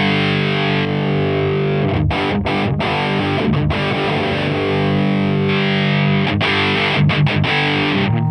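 Distorted electric guitar played through a Fat Blob Guitar Suprême compressor pedal, heard with and without the mix, chords ringing steadily with a few brief stops and restrikes, loud and alone.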